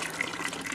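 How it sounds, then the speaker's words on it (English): Water runs steadily from a tap into a tub, filling it for an outdoor bucket-style bath; a continuous, fairly soft gushing with no talk. "We got the water running"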